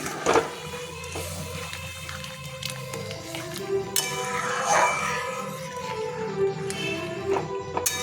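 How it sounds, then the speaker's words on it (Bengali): Hot water pours into a banana flower fritter curry, giving a wet splashing gurgle with clinks of utensil against pot scattered throughout, close and moderately loud over a faint background hum. "এটাতে একটুখানি গরম জল দেবো জলটা একটু বেশিই দিলাম কারণ বড়াতে টেনে নেবে"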